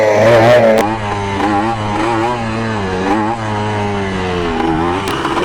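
A Kawasaki KE100 motorcycle taking short throttle blips, its engine note rising and falling in wavering pulses over a steady idle, close and loud, with no talk.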